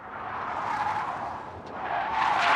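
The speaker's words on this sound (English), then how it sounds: "to just hear the squealing of the tires" Continuous high-pitched tire squeal from a drifting car during Formula Drift qualifying, rising and falling in intensity, with little engine noise audible, fairly close and loud.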